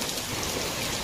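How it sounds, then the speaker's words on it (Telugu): Heavy rain pouring steadily in a dense, even wash of drops beating on surfaces during a hot sunny spell, loud and close with no talk over it. "మళ్ళీ వాన ఫుల్ కొడుతుందనమాట"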